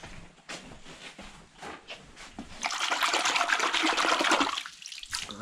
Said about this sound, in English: just go wash my hands